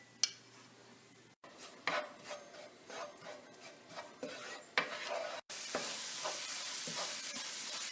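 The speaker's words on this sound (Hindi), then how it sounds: "लहसुन अदरक की पेस्ट डाल के 1 मिनट कर लेते हैं।" Garlic-ginger paste fries in oil in a pan. Rhythmic spoon scrapes and stirring rubs sit over a quiet sizzle, which swells into a louder, steady hiss near the end, with no talking.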